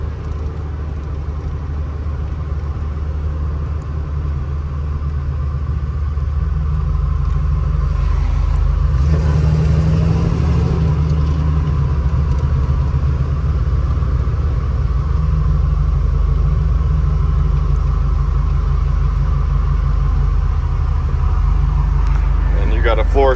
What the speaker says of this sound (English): Very nice driving truck.